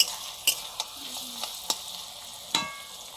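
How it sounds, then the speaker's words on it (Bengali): Food pieces frying in batches in a pan, a soft steady sizzle broken by several sharp clinks and scrapes of a utensil stirring, close and fairly quiet with no voices. "একসঙ্গে বেশি দিলেও খুব ভালো ভাজা হয় না, এই জন্য পরপর দিয়ে ভেজে নিচ্ছি"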